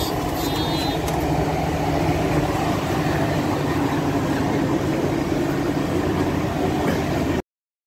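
In Makkah, a shuttle bus pulls up nearby with a steady engine rumble and road noise under busy outdoor ambience; the sound stays constant and fairly close, with no clear speech.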